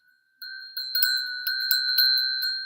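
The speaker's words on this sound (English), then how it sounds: "As the chiming of the bell" Chiming bell struck during a guided meditation, a clear ringing tone sounding several times in quick succession, bright and sustained, with no voice over it.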